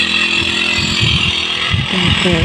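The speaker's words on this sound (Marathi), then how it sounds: "ते मोटर चालू करून इकडं खांद्यावर घेऊन बॅग कसं अडकवतात" A motorized backpack pesticide sprayer with a 23-litre tank runs steadily in a sorghum field, its small engine droning loud and close with a constant buzzing whine.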